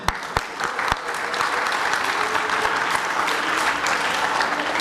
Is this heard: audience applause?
yes